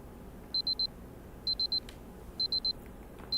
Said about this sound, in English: Why isn't the alarm stopping?